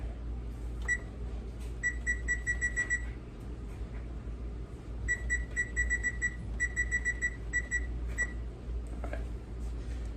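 A kitchen timer beeps in quick repeated bursts of high electronic tones, three separate runs of rapid beeps over a steady low background hum.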